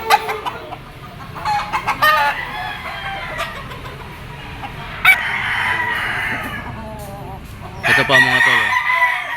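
A Lemon Sweater bloodline gamefowl rooster with yellow legs crows among other clucking chickens at a cockfowl sale in Lipa, Batangas, with someone talking briefly at the start.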